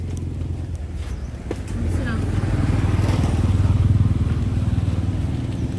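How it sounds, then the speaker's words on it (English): An electric resort buggy carrying guests to their room at a beach resort in Koh Samui, Thailand, giving a low, steady rolling rumble of motor and tires close up, with voices talking over it. "This is a buggy ride."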